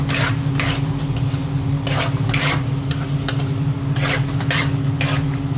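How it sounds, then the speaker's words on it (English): A spoon stirs fried king prawns into a tikka butter sauce with a steady scraping, sloshing rhythm, set against a constant low hum and a soft background sizzle. No one speaks. "Stir it up."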